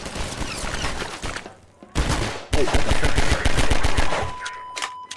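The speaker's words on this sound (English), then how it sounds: "Oh, they have a turret." Rapid automatic turret fire from a Half-Life 2 firefight, loud and close in sustained bursts with brief gaps, while a voice speaks briefly over the shooting.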